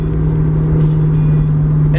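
A manual car's engine hums at a steady, close, loud pitch with faint rhythmic ticks, a rev-match downshift from fourth to third gear, with no revving burst standing out.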